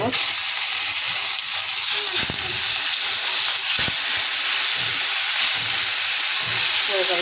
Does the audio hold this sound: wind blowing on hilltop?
no